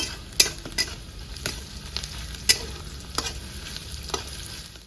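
Onion frying with salt in a pan, a close sizzle broken by sharp, repeated clinks and scrapes of a utensil against the metal, irregular and fairly loud, with no voices.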